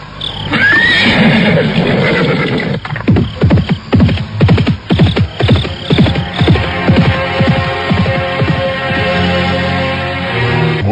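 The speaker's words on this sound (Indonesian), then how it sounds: "Suara kakinya yang menderap di atas jalanan berbatu bergema dipantulkan oleh bukit-bukit di sekitarnya" A horse whinnies and snorts close by, followed by a run of quick, heavy hoof impacts on a rocky road that thud in a steady galloping rhythm before easing off.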